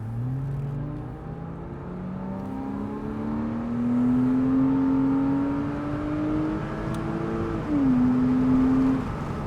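A Porsche Boxster with an automatic gearbox revs steadily higher as it accelerates through the gears, a smooth rising whine with a brief drop at a shift, loud and close.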